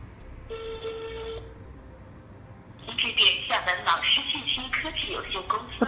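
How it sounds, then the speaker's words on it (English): A mobile phone calling a PBX trunk number, with a short electronic ring tone followed by a voice answering in Spanish. "Now use a mobile phone to dial the trunk's number."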